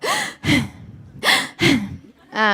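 Heavy breathing and sharp gasps recorded for ADR, a woman's loud close inhales and exhales in a rapid, uneven rhythm, as if hyperventilating.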